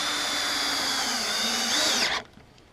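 A power drill runs steadily as it drives a long lag screw into a wooden gate latch, a continuous close whine that climbs slightly in pitch before cutting off abruptly near the end.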